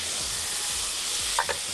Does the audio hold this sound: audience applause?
no